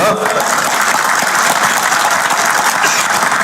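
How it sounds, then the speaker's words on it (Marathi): Audience at a political rally applauding, dense sustained clapping from a large crowd that fills the whole moment at high volume. "मी बोलल्यानंतर टाळ्या वाजल्या"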